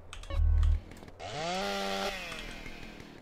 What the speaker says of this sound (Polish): z Kitrana jest też piła motorowa. I ja ją sobie wezmę